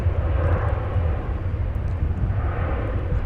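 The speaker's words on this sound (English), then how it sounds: "we had Emirates coming in from Dubai" An Emirates airliner arriving from Dubai at DFW Airport, its engines a steady, broad, loud roar with a heavy low rumble, holding constant throughout without any talking.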